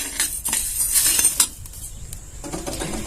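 Uncooked rice dry-roasted in a pan on low heat with no oil or ghee, stirred steadily: a close series of scraping, rattling strokes with light clinks, no voices.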